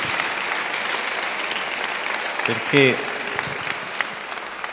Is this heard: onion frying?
no